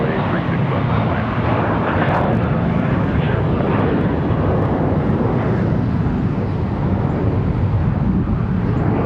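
An American Airlines Airbus lands on runway 36 left at Charlotte Douglas airport, its engines giving off a loud, continuous broadband roar close by. A radio-style voice talks over the noise.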